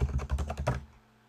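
Rapid keystrokes on a computer keyboard as a web address is typed, about seven close, crisp clicks in under a second, then quiet.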